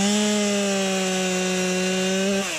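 A chainsaw bucks a pile of firewood logs, its engine holding a loud, steady, high-pitched whine under cutting load, then dropping in pitch at the very end. It is close, with no voices.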